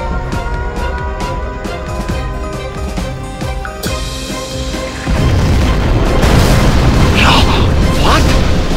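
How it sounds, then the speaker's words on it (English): A nuclear missile explosion in Command & Conquer: Zero Hour hits as a sudden loud, rumbling blast about halfway through, swelling into a sustained roar over ongoing tonal game music. "We have launched our nuclear missile."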